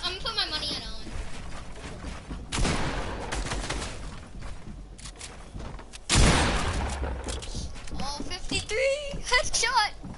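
Gunshots in a Fortnite build battle ring out as two loud, sharp blasts several seconds apart, each trailing off, with excited voices talking over the game sounds between them.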